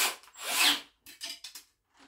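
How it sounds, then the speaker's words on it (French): Cordless drill-driver assembling small furniture shelves, a close whirring burst lasting over half a second followed by several shorter, choppy pulses and a faint final spin. "C'est hyper pratique, la perceuse visseuse sans fil."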